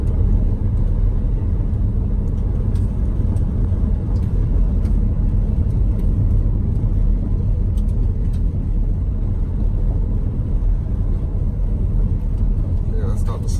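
A car's engine runs at raised RPM during an ABS wheel speed sensor test, a loud continuous low rumble that holds steady throughout.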